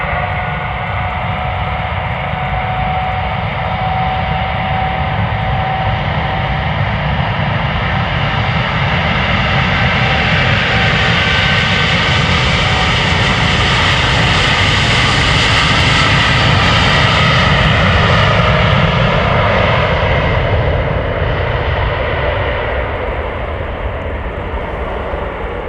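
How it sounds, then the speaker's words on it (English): A KLM Boeing Dreamliner bound for Atlanta, flight 623, spools up its jet engines for departure at Amsterdam Schiphol, a loud, sustained, close roar with a rising whine that peaks midway and eases slightly toward the end, with no talk. "The Dreamliner to Atlanta is spooling up."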